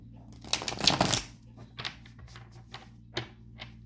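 Tarot cards riffle in a quick shuffle, a dense rattling burst followed by a few shorter flicks and taps, close by with a low hum underneath.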